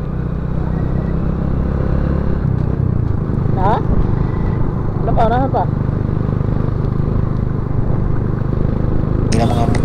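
A Honda XR motorcycle with a worn sprocket rumbles steadily along a rough, bumpy road, its engine a constant close drone with faint clatter, while riders talk briefly over it.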